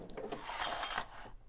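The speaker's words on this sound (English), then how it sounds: "Sorry for the sound all those clips are making." Sewing clips clatter and rub against fabric as a machine stitches around a quilted candy dish pillow, a brief, faint run of scratchy clicks and rustles.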